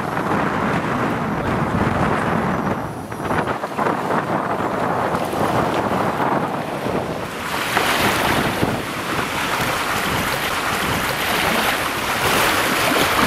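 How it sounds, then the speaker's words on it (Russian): Strong wind blows over the Akhtuba River during a June fishing trip, a loud, steady roar of gusting air and microphone buffeting that swells and eases without pause. "Ветер."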